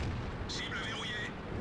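Tank cannon fire in the online game World of Tanks: a short, muffled burst of battle noise with a brief ringing tone, sitting in a dense bed of constant game sound.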